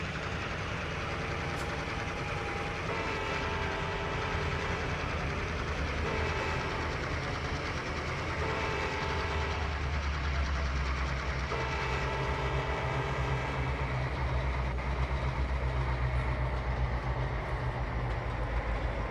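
A train in Trainz Simulator on Xbox rolls into a yard with a continuous heavy rumble, rhythmic clickety-clack of wheels over rail joints and a few sustained horn-like tones, steady and fairly loud throughout with no talking.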